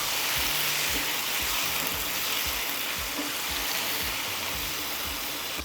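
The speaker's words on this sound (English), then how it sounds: "you can hear that lovely sizzle as the tomato hits the oil." Hot oil sizzles loudly and steadily as tomato cooks in it, a dense close crackle from start to finish, with faint low clunks and scrapes of cookware beneath it.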